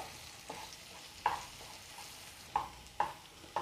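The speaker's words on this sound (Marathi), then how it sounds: "आपला मसाला चांगला परतून झालेला आहे." Spiced masala of red chili, cumin powder and coriander being stirred in a pan: soft sizzling with a few distinct scraping clicks of the spoon at irregular intervals, close and fairly quiet.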